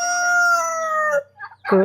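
On a small Kerala poultry farm with turkeys and native chickens, a rooster crows loudly in one long drawn-out call, followed by a few short clucks from chickens nearby.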